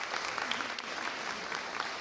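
Audience applauding at a state budget signing ceremony with the Illinois governor, a steady, dense wash of many hands clapping throughout, fairly even in level with no voices standing out.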